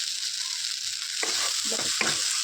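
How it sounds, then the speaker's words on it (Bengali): Lote fish and potatoes stir-frying in a pan make a continuous bright sizzle, joined partway through by several close scraping stirs of a spatula. "বেশ দশ মিনিট ধরে এইভাবে নাড়াচাড়া করে নেবো"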